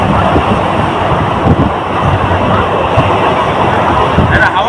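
Wind rushes past the open window of a moving train in the rain, a loud, steady roar close to the microphone with rumbling buffeting underneath and faint speech mixed in.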